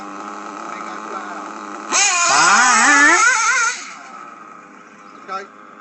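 A race-tuned engine idles, then is revved hard for about two seconds, rising to a loud, raspy roar. It drops back to a quieter idle with a short blip afterward.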